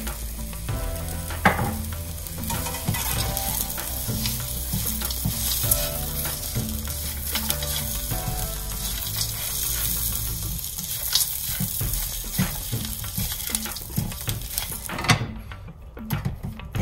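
A masala mixture being dry-roasted in a pan, a steady close sizzle and crackle with constant stirring scrapes and clatter, briefly dropping quieter near the end.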